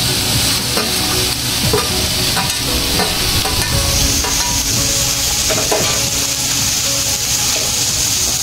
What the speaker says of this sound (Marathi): व्यवस्थित परतून घ्यायचे आपल्याला हे भाज्या।